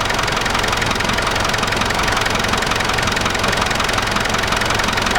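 A car engine idles with a noisy, faulty alternator, giving a loud, dense mechanical whir and rattle that holds steady and close throughout, with no talking.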